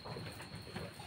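A bird at a livestock breeding farm gives a low cooing call, fairly faint, over a steady broadband background hum for about a second.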